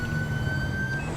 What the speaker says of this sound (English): This really isn't exactly an emergency to be running like sirens as well